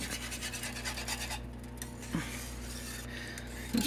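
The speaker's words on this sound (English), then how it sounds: "Scrape the sides of your skillet down." A utensil scrapes the sides of a cast-iron skillet, more than thirty years old, that holds thickening homemade milk gravy, giving repeated close metallic scratching and scraping strokes.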